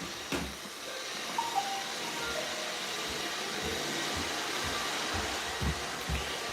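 A Roomba 530 robot vacuum runs steadily at moderate distance, a continuous whirring motor hum with brush noise and occasional small bumps and clatters.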